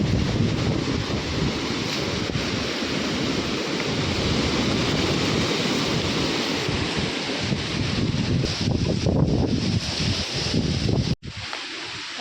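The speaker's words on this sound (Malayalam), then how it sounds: "ഭയങ്കര കാറ്റാണ് ഇവിടെ നിൽക്കാൻ പറ്റത്തില്ല" Strong wind roars without letup across a hilltop, buffeting the microphone with loud, steady rushing noise, and a brief dip near the end.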